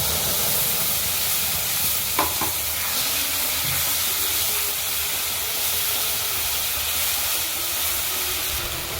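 Chopped tomato with onion, ginger and garlic paste fries in hot oil, giving a steady sizzle and hiss with occasional stirring scrapes and a brief clatter, close and continuous with no talking.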